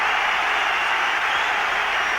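A football crowd at an Everton versus Liverpool FA Cup fifth-round second replay applauds the departing Dutch referee, a dense, steady roar of clapping that fills the whole stretch at high volume.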